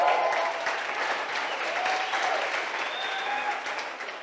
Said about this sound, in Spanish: Todo nuestro staff, un aplauso para Mariel, por favor.